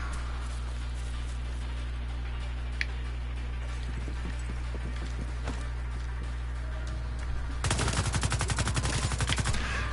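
Rapid gunfire in the video game The Division 2 during the open beta, a dense burst of repeated shots near the end over a steady background hum, with a few isolated clicks earlier.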